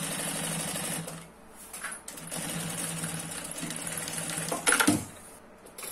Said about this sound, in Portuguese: posiciona os dois bem juntinho e costura bem na bordinha